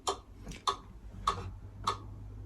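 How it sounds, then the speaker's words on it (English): Metronome ticking at a steady even pace during a guitar position exercise, five crisp clicks over a faint background hiss. "with a metronome, it's going to sound like this"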